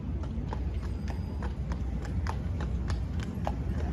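Horse hooves clip-clop on a Manhattan street by Central Park, a steady, fairly close run of hoof strikes over a constant background of city traffic hum.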